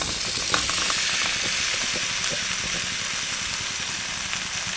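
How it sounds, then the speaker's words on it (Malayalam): Fried mango pieces are stirred into hot spiced oil for mango pickle, giving a steady soft sizzle with scattered scraping clicks of a spoon against the pan. "നമുക്കിതൊന്ന് ഇളക്കി യോജിപ്പിക്കാം"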